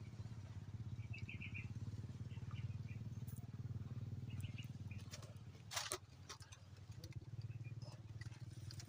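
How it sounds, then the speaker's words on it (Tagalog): Three motorcycles run close by on a rural road, a steady loud engine drone with a rattle near the end, while faint bird chirps sound in the background. "Tatlong motor."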